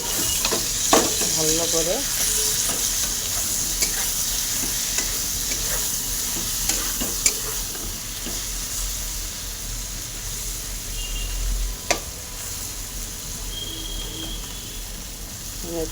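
Brain frying in a pan with oil, a constant sizzle punctuated by scraping stirs and occasional clinks of a spoon against the pan, with a voice speaking briefly.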